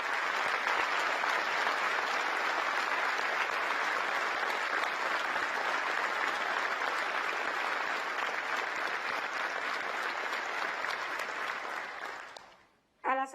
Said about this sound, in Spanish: les solicito un fuerte aplauso para ellos